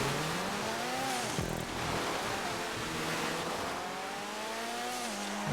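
A rallycross race car in GTA 5 revs and shifts up and down through its gears, loud and continuous. Tires hiss over loose track surface underneath, and there is no talk.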